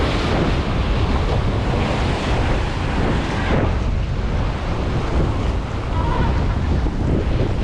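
Rough sea surf churns steadily with a constant roar, wind buffeting the microphone throughout and no pauses in the wash of water.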